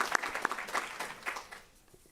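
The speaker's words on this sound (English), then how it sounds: "So let's give him a little round of applause" Light, thin applause from a small group at a student awards ceremony, a brief patter of clapping that fades out within a couple of seconds.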